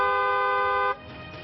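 A vehicle horn gives one steady, loud honk that cuts off sharply partway through, leaving faint street background behind it.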